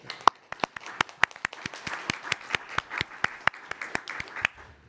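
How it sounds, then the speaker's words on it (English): A small group at a transit agency board of directors meeting gives a brief round of applause, sparse distinct claps from a few people close by, lasting a few seconds. "So another round of applause for them."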